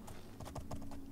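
Horse hooves clip-clop in the video game Oblivion, an uneven run of soft thuds that is faint and close, with a low hum underneath.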